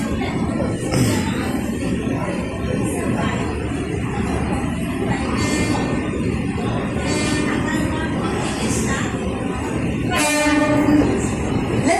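Sealdah to Krishnanagar AC local train running: a steady loud rumble of the carriage with faint rail clicks, heard from inside the train. Voices murmur in the background and a horn-like tone sounds near the end.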